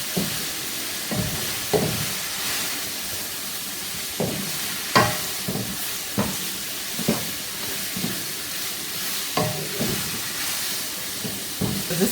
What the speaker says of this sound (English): I'm going to give this a stir really quick to mix in the carrots and the green sprouts that I just added to the sausage.